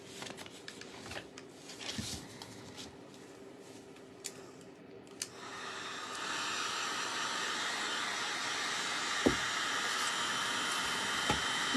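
A hair dryer blows on freshly painted seashells, starting faint and distant, then switching to a steady, loud airy whoosh for the second half, with a few small clicks and taps of handling.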